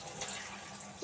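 Tap water runs steadily, hissing and splashing softly, while a mutton head is rinsed clean under it, brief and fairly faint throughout.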